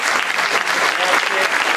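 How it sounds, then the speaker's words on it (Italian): Applause for champions and athletes at an anniversary celebration of CSI Lecco, a dense, steady clapping from a crowd filling a brief moment without pause. "Un applauso"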